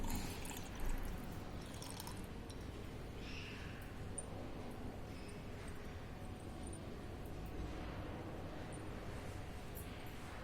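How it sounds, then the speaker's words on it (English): A hot solution is poured into a beaker holding 80 ml of water during a benzocaine esterification, a faint soft trickle and splash with a few drips, quiet and close. "So I am just going to pour this solution to the beaker."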